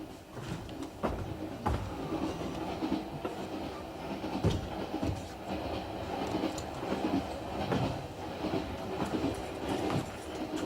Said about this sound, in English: Where does this train stop next?